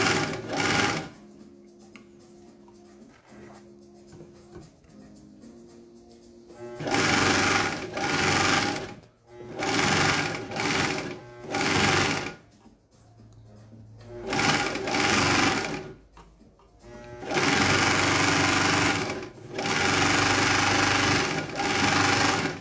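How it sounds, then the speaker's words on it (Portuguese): An overlock sewing machine, model GN1-6D, stitches and trims fabric in loud, close bursts of rapid mechanical whirring separated by pauses, with faint talk and handling in between. "Ó, e ela já vai cortando o tecido, hein?"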